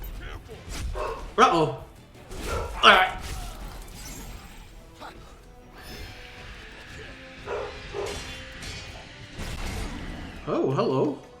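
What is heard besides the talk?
dog barking in the streamer's room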